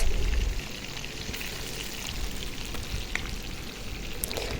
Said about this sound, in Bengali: এই যে দেখুন মাছগুলো ভেজে নিতেছি আমি সবগুলো মাছ